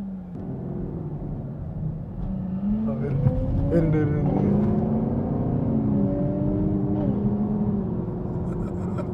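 A car accelerating hard on a street, engine revving up through rising sweeps that build to a loud peak midway and then ease, with someone talking briefly over it.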